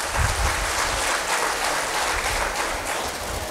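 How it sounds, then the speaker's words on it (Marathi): An audience claps together for a 104-year-old man during a Marathi health talk, a dense, steady wash of hands that fills the room from start to finish, with no voices over it. "टाळ्या वाजवा त्यांच्यासाठी."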